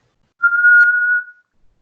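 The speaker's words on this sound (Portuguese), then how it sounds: "Assobie." A person under a facial nerve examination whistles a single clear, steady tone lasting just under a second, close and loud against silence.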